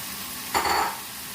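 Bacon hits a hot stir-fry pan with chicken and vegetables and bursts into a short, loud sizzle that fades within half a second.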